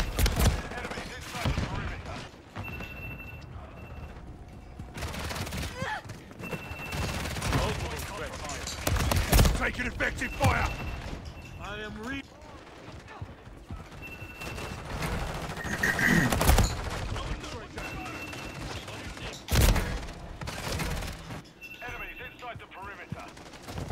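Gunfire in the video game Modern Warfare 3, with repeated bursts of automatic fire and single sharp shots spread across the clip, some loud and close, mixed with players talking.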